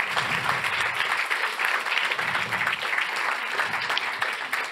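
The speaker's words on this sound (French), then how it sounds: "Mais oui, profitez des applaudissements" Audience applauding young insurance-industry award winners called up on stage, a steady, dense wash of clapping from a crowd that holds evenly throughout.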